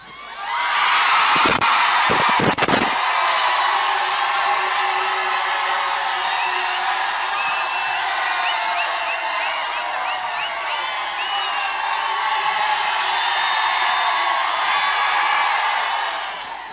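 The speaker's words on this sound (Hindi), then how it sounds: "चलो चीखे मार लो, कुछ भी कर लो. 20 सेकंड आपके." A large political rally crowd shouts, screams and cheers continuously for a long stretch, loud and massed, with a few sharp bangs or claps near the start.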